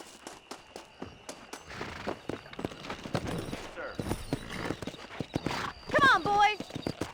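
Horse hooves clip-clop in a quick rhythmic gallop while riding in Red Dead Redemption, with a whinny near the end and someone talking over the hoofbeats.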